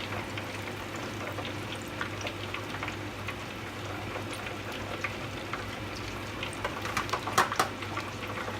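Cooked sweet potato drained of its hot water, a steady rushing, splashing pour with a few louder spatters near the end, close by and with no talking.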